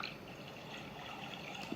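Splashing water effect from a talking picture book of We're Going on a Bear Hunt, a steady soft wash of flowing river water lasting under two seconds, fairly quiet with no voices.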